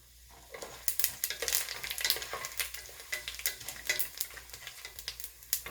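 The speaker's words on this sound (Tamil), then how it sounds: "1 டீஸ்பூன் சோம்பு சேர்த்து வதக்கிக்கலாம்." Whole spices, including cardamom, star anise and fennel seeds, crackle and sizzle in hot oil, with a steady frying hiss broken by sharp pops and occasional stirring, close and continuous.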